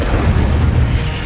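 A fiery Incendio spell cast in Hogwarts Legacy bursts as a loud, dense whoosh-boom that sustains heavily for about a second without any voice.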